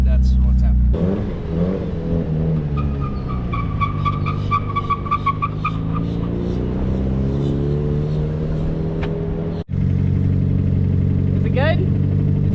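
Engine of a cheap drift car on a test run, a steady loud idle that rises and falls in pitch through a rev, cutting out briefly before picking up again, with people talking over it.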